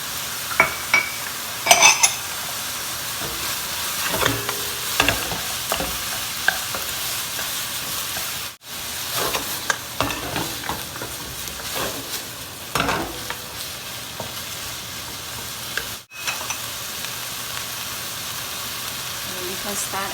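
Pork stir-frying in a pan with ginger and onion gives a continuous sizzle, broken by repeated scraping and clattering of a utensil against the pan, with intermittent talk over it.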